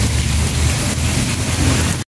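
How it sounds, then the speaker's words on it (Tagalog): Heavy rain pouring down outdoors during a fishing trip, a loud, dense, continuous hiss of falling water close by that stops abruptly. "Bakbakan tayo sa gitna ng ulan."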